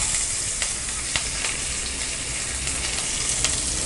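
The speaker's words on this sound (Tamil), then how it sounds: "நான் வந்து அப்படியே தாளிச்சுக்கிறேன்." Mustard seeds, curry leaves, chillies and onion tempering in hot oil for a vegetable kootu, giving a steady close sizzle and frying hiss with scattered sharp pops and crackles throughout, no voices.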